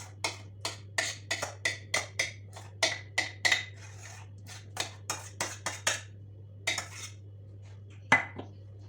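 A utensil spreads pastry cream over a layered sponge cake in a tart mould, giving a steady run of soft scraping taps against the dish, close and fairly quiet over a low constant hum, pausing briefly midway before a few last strokes.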